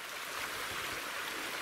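A woodland river flows with a steady, even rush of water, close and continuous with no voices over it.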